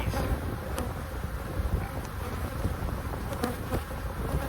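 Honey bees swarm around an open hive during a beekeeping inspection for queen cells, a steady close droning buzz with individual bees zipping past the microphone and no talking.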